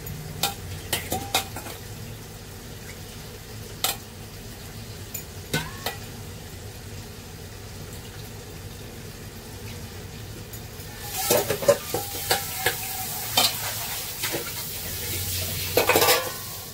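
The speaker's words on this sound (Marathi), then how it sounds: "आपल्याला कोलंबी शिजवून घ्यायची" Prawns fry in a pot with spices for a prawn rice dish. A soft, continuous sizzle sits under close, irregular scrapes and clinks of a spoon stirring against the metal pot, growing busier toward the end.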